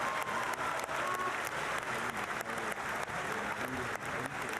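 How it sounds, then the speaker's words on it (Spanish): Morena legislators applaud in the session hall during the solemn session for López Obrador's 2018 swearing-in: dense, continuous clapping from many hands, even and unbroken, heard at a moderate distance. "La bancada de Morena aplaude"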